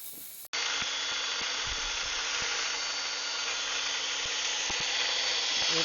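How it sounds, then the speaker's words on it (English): An old Cuisinart hand mixer whirs steadily as it beats two egg whites toward stiff peaks, a continuous loud motor drone with faint rhythmic ticks of the beaters against the bowl, starting abruptly after a brief click. "ancient Cuisinart hand mixer that my mother-in-law gave to me because she got a new one"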